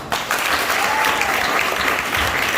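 A room of trainees at a fire-extinguisher safety session breaks into steady, dense applause that holds at an even level for a couple of seconds.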